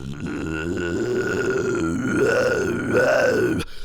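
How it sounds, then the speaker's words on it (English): A harsh, gurgly guttural vocal scream with a rough rattling fry, sustained and swelling in pitch over a few seconds, loud and close. "slow down the rumbling of the arytenoid cartilage to produce more of a gurgly guttural effect"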